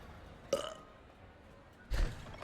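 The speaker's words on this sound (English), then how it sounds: "As he burps on the way out." A character in Hogwarts Legacy lets out two short burps about a second and a half apart, the second deeper and louder, with quiet background between them.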